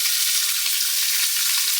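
Pieces of fresh silver carp fish fry in a pan of oil, giving a loud, dense, unbroken sizzle with faint crackles, close up and with no talking.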